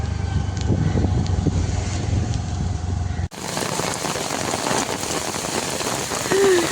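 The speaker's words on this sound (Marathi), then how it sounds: "पाऊस पण पडतोय" Rain patters steadily on a surface nearby, a dense constant hiss; after an abrupt cut, the rain sounds louder and more open, with a faint brief voice near the end.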